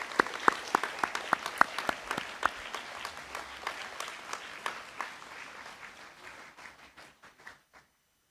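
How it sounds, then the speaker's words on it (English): A school audience at a junior school celebration applauds its student leaders: a few sharp, distinct claps at first swell into dense applause, which then thins and fades to quiet near the end. "Let's give them a big last round of applause."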